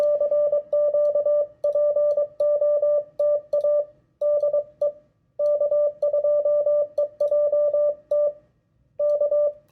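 A single steady radio tone keyed on and off in Morse code, sending a CQ POTA call in repeated dot-dash groups with short pauses between letters and words.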